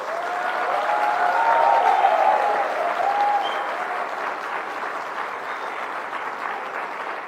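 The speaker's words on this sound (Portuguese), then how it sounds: "Salve de palmas." Sustained audience applause fills the hall at the first European Spiritist Congress in Switzerland, strongest early on and then gradually thinning to a steady patter.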